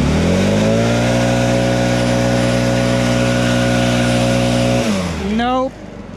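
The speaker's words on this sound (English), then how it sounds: "Let's see if this blower will blow it just for this chunk here." A Stihl BR800 backpack leaf blower drones at a loud, steady pitch for several seconds while blowing gravel, then its tone slides and winds down near the end.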